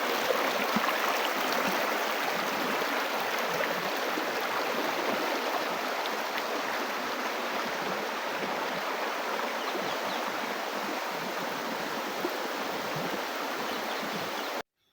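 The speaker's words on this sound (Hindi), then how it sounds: "ठंडा ठंडा पानी, स्पीड काफ़ी तेज़ है" Cold, fast water rushes through a narrow channel at Kanhati Garden, producing a dense, steady roar of flowing stream that stays constant and close for the full length.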